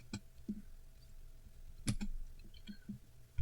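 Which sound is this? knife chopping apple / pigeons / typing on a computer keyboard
typing on a computer keyboard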